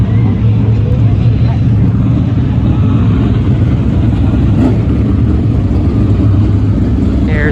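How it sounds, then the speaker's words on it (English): Late model race cars circling the track at Placerville Speedway, a loud continuous engine roar with faint voices mixed in. "So I'm going to go shoot some video of the late model race"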